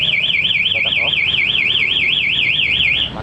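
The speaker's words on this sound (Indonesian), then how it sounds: "buat Anda yang nggak suka suara alarm" MP One Way motorcycle alarm fitted to a Yamaha R25 wails loudly and steadily, a rapid warbling electronic siren held close for about three seconds before cutting off.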